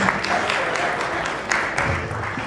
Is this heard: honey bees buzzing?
no